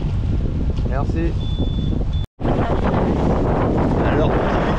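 A sailboat under sail with its engine cut, running in a steady 13 to 15 knot breeze off Port Leucate; loud, continuous wind rush and water noise on the microphone, with a brief dropout midway and voices faintly underneath.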